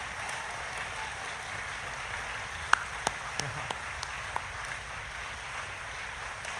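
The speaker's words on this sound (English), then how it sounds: "So give her a round of applause." Audience applause for the First Lady of Florida at a DeSantis campaign rally in Manchester, New Hampshire: a steady, faint wash of many hands clapping, with a few sharper claps standing out partway through.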